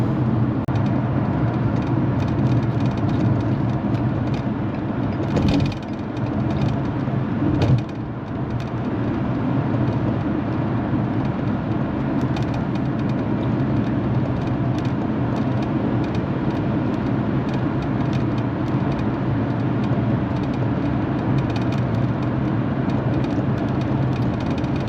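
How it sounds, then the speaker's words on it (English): A car cruises down a highway with a steady, loud drone of road and engine noise inside the cabin, broken by a couple of brief louder whooshes, with no talk. "because we're driving down the highway, we're chasing a Cybertruck"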